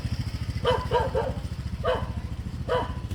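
A dog barks in short bursts, a quick double or triple bark followed by two single barks, over a steady low engine rumble.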